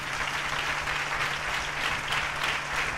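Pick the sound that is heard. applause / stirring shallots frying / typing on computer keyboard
applause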